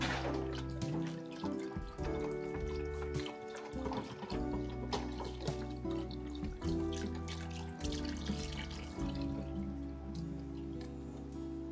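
Water runs and splashes into a chicken stock carton with a steady, hollow pour, with some dripping and faint clatter in the background.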